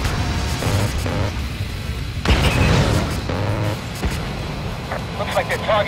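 Weapons firing in the Ace Combat Assault Horizon video game: heavy booms and bursts, one especially loud around the middle, mixed with radio chatter and voices throughout.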